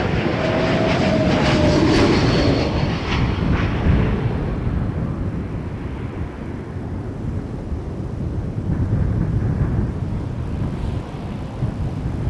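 A Porter Airlines Embraer 195 jet at Toronto Pearson Airport gives a loud engine roar with a whining edge that peaks early, then eases into a lower, more distant rumble.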